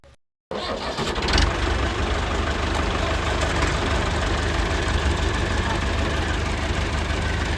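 A New Holland 850 and a Massey Ferguson 385 tractor crank and fire after a moment of silence, then settle into a loud, continuous, rumbling diesel idle close by.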